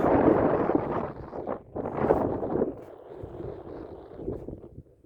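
Strong wind buffets the microphone in a boat on Carlyle Lake while catfishing, a loud, blustery roar with gusts that rise and drop over a few seconds and no voice.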